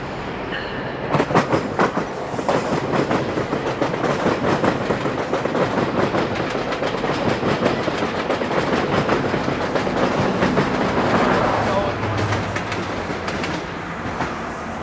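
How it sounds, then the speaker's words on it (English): A VIA Rail passenger train rolls past in Toronto's downtown west end, a steady loud rumble with rhythmic clickety-clack of wheels over rail joints lasting the whole stretch, swelling slightly as the cars go by. "that was actually a via train coming in from the west"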